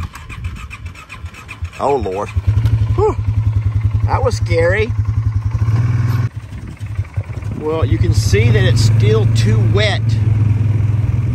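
A four-wheeler ATV engine drones low and steady while riding over wet ground, dipping briefly in the middle, with a person talking excitedly over the motor throughout.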